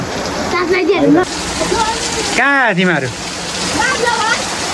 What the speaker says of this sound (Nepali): अब पानी परिरहेको छ